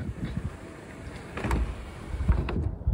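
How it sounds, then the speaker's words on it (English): Electric sunroof on a Rover SD1 closing and then opening, a low motorised whirr with faint mechanical clunks and a final soft thump, close by and alone. "sunroof closes and then it opens"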